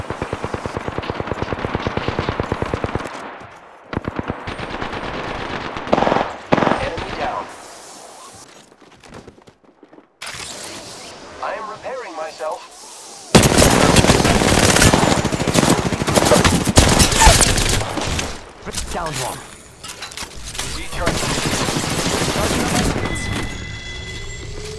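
Gunfire in an Apex Legends firefight: rapid bursts of automatic shots and single cracks, broken by brief pauses, then a long loud stretch of heavy sustained fire, with voices talking in between.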